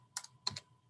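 Soft keystrokes on a computer keyboard, a few quick clicks in small clusters, quiet and close, with no talking.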